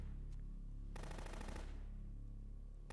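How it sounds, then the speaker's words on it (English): Rapid automatic gunfire from the Metal Gear Solid 2 video game, a dense burst of rattling shots lasting under a second amid a steady game soundscape, fairly loud. "I don't know if I'd want to shoot that many rounds off in a metal box."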